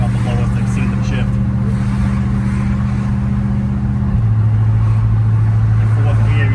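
Olds 442 with a transmission swap and 3.91 gears, engine droning steadily from inside the car, then its pitch drops noticeably partway through as it shifts up, with someone talking over the engine noise.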